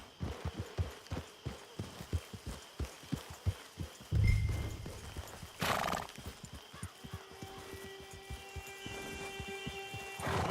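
Horse hooves clip-clop at a steady walking rhythm in Red Dead Online on Xbox One, with a loud snort around the middle and a whinny later, close by and with no talk over them.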